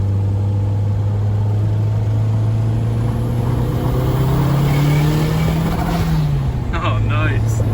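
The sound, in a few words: Toyota MR2 engine accelerating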